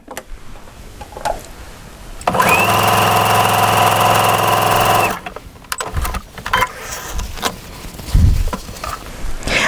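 A home sewing machine stitching a pintuck, a steady close mechanical whir running for about three seconds between quieter handling noises and light rustling.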